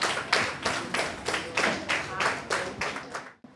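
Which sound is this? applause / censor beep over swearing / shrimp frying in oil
applause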